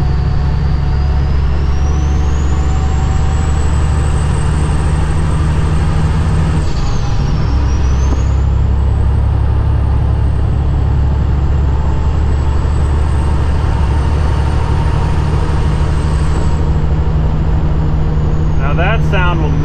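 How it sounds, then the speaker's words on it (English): Heavy truck hauling concrete, its engine droning loudly while driving with a high rising and falling turbo whistle spooling over the rumble, a brief dip midway, and someone talking. "Want to listen to this turbo though?"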